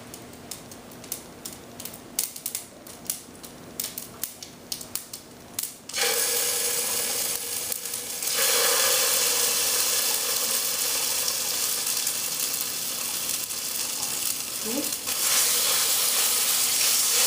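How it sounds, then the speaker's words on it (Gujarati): Mustard seeds in hot oil: loud, steady sizzling that starts abruptly and keeps crackling densely, after a few sparse ticks and pops at the start. "આપણી રાઈ ફૂટે છે."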